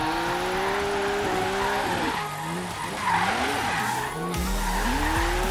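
Tires squeal and skid steadily as a car drifts downhill on Blizzard Mountain in a racing video game, with the engine note rising and falling under the continuous screech, loud and close, no talk.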